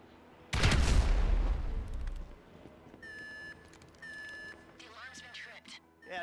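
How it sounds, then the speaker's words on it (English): In Grand Theft Auto V, a planted charge detonates: a loud, sudden blast erupts and rumbles away over a couple of seconds, followed by electronic beeps and tones from the game. "An explosion will tend to do that."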